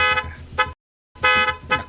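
A car horn honks loudly in two long harmonic blasts separated by a short silence, each blast with a brief pulsing accent, with no talk over it.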